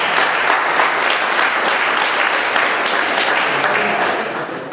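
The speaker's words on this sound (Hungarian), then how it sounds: "Egy tapsot nekik, igen!" A crowd at a small convention event gives sustained, dense applause for treasure hunt winners, steady and fairly loud throughout, tapering slightly at the end.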